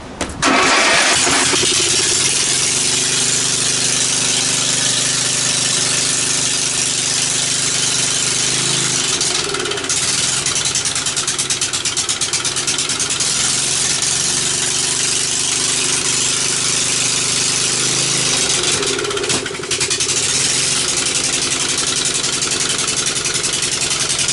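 A repaired Victa lawn mower engine runs loud and close for over twenty seconds. It holds a steady, buzzy idle with brief dips and surges in speed, and there is no talking.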